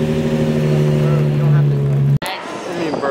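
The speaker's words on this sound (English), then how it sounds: "My man's just roasting the clutch." A turbocharged car at a cars and coffee meet revs hard with a steady droning engine note as the clutch is slipped, then cuts off abruptly before rougher engine noise resumes, with crowd chatter around.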